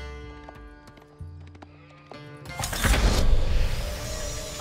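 Hooves clip-clop followed by a loud horse whinny, with a burst of busy noise after, in the video game Age of Empires 4; the sounds are clear and close, without any talking.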